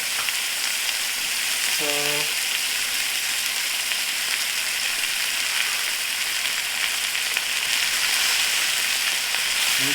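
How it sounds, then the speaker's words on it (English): Garlic frying in hot oil in a pan makes a loud, steady, close-up sizzle that hisses without a break the whole way through, with a brief spoken word early on. "I like to add the garlic right to that hot oil."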